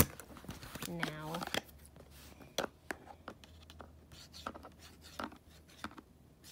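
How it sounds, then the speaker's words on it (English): Close, quiet snips of scissors cutting open plastic packaging of a Baby Alive Foodie Cuties toy, scattered irregular cuts and crinkling rustles, with a brief hum of a voice near the start. "I'm gonna cut this open"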